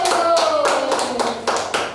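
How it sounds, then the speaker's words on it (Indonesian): A small group claps in a steady rhythm of about seven distinct beats during an online children's church service, close and fairly clear, with a faint tone lingering underneath. "Beri tepuk tangan untuk Tuhan Yesus"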